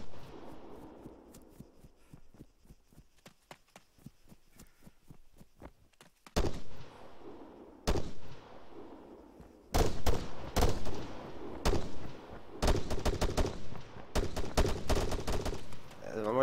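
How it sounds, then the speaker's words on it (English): Gunfire rings out in the ArmA 3 Wasteland mode during an airfield gunfight: sparse faint distant shots at first, then loud close bursts and volleys of rapid fire. "they're shooting at me"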